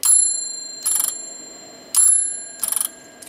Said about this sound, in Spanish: Y tenemos el sonido de que el martillo golpea en la campana